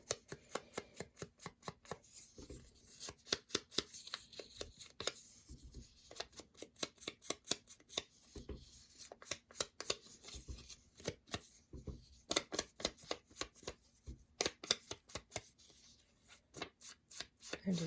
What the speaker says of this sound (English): I'm just dirtying up the paper a little bit so it's not so white.